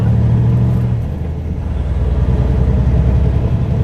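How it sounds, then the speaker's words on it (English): A truck rolls through snow with a constant deep motor drone and broadband road noise, steady and near throughout, without talk. "Sure is fun driving truck in the snow."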